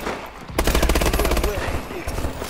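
A rapid burst of automatic gunfire in the video game Call of Duty: Advanced Warfare, a loud close rattle of about a second, with a player's voice around it.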